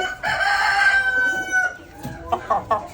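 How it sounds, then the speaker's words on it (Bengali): A Laizza hill chicken, a large long-legged breed, clucks and crows loudly and close by in a few short, ragged calls. "তাহলে বুঝবেন যে লাইজ্জা মুরগটা কেমন হয়।"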